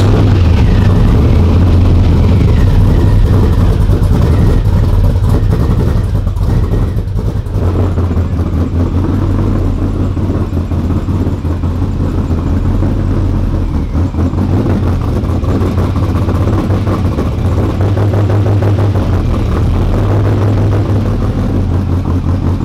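A Ford F150 prerunner truck engine runs loud and close, a dense continuous rumble with rough mechanical texture and slight swells in revs throughout.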